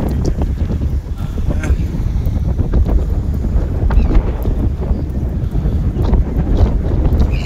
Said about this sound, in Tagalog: Medyo mahangin lang pero